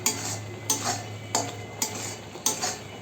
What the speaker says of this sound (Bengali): এটা সুন্দর করে ফুটতেছে এবং একটা আঠালো পর্যায়ে চলে আসতেছে